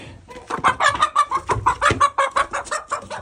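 Several chickens cluck in a coop in a quick, irregular series of short calls, close by and fairly loud, with no talking.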